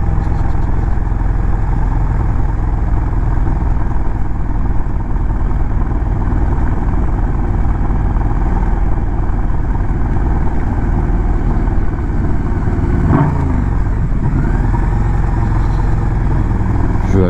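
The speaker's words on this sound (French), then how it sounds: "Ma moto fait quand même pas mal de bruit" A KTM motorcycle engine drones steadily at a constant level throughout while being ridden, with a brief louder burst near the end.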